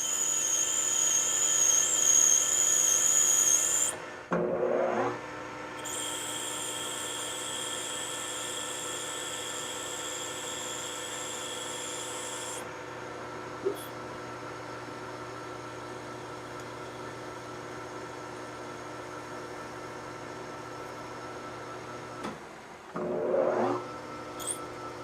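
Machine cutting slots into a Delrin part, a steady high-pitched whine that stops briefly and restarts partway through, with occasional short bursts of cutting noise over a constant low hum.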